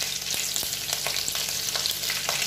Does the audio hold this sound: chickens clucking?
no